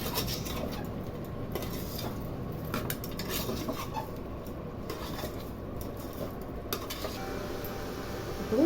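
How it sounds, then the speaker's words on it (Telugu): Turmeric and chili powder stirred with a spoon in a pan for a stuffed brinjal (vankaya mettallu) dish, a steady run of metallic scraping and clinking at close range. "కొంచెం పసుపు, కారం, కొంచెం కలపాలండి"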